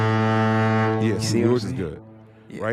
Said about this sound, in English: Your foghorn just sound like a fart.